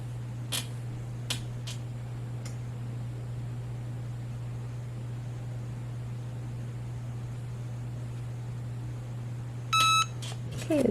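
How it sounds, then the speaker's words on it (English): A Cricut EasyPress heat press sounds its timer with a short, bright electronic beep near the end, set against a steady low hum and faint background noise. "a beep to tell us the timer's up"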